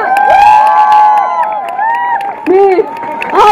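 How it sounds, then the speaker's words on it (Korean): A crowd at a Jeju campaign rally for presidential candidate Moon Jae-in cheers and whoops, with some clapping underneath. The shouting voices are loud and close and fade briefly before swelling again. "박수 부탁드리겠습니다."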